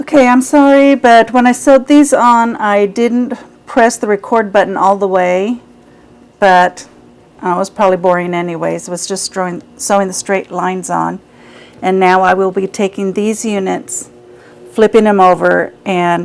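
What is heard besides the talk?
No distinct noise like a dog, phone or traffic.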